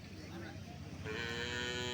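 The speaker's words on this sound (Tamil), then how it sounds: "இங்கே ஒரு மூன்று நான்கு மாடுகள் இருக்குது" Native cattle at a village cattle market at Pazhaiyakottai low and moo over a busy crowd, with a louder, sustained bellow rising partway through amid steady background chatter.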